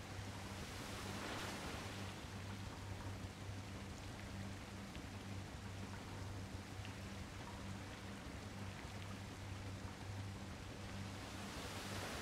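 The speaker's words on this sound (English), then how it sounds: "Hear the ambient water noises." Ambient water in Nier: Automata, a continuous soft surf-like wash, rain-like and even, with a steady low hum beneath and no voices across the whole stretch.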